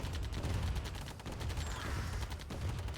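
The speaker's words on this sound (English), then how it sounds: "these turrets are just ripping everything apart" Turrets fire nonstop in a C&C: Tiberian Dawn tournament match, a dense crackle of rapid gunfire with layered impacts and no talking.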